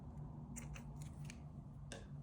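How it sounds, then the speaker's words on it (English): Scissors snip through white yarn while crocheting a granny square, giving a few quick, crisp close-up cuts over a quiet background hum. "we can now cut our white yarn off"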